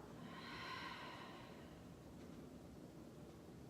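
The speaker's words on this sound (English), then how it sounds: "Big breath out." A deep, slow exhale during a gentle morning yoga flow, one soft, close breath out that fades gradually with no talking.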